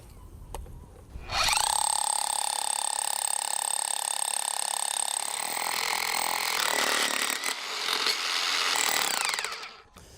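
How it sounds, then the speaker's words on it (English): A hammer drill boring through concrete: a loud, steady power-tool whine with a grinding edge runs for several seconds, briefly dipping before ramping back up and cutting off. "It's a hammer drill, and it's going to go right through the concrete."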